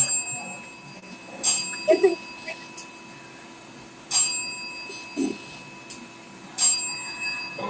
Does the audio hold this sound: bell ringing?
yes